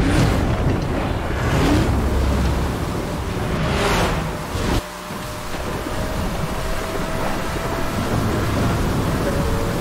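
Thunder rumbles and cracks during a night race in the game Need for Speed Hot Pursuit, heavy low rolling booms with a sharp strike near the middle, set against continuous wind-like noise.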